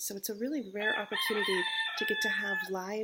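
Roosters crow in the background, a sustained high call running behind a person speaking in the foreground.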